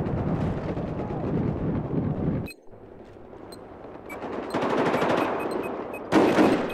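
An MG4 machine gun fires in Battlefield 4, with long, dense automatic bursts close up. A brief pause is followed by renewed sustained fire that grows louder toward the end.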